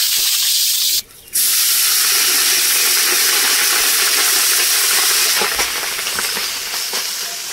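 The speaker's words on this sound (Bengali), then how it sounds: "এলাচ, দারচিনি, বাদাম, কিশমিশ, কাজু কিশমিশ দিয়ে দিয়েছো। হ্যাঁ, দিয়ে একটু ভেজে নেবো।" Cardamom, cinnamon, nuts, cashews and raisins fry in hot oil for festive-style fried rice, giving a loud, constant hissing sizzle with a brief dip near the start, close to the pan and with no voices.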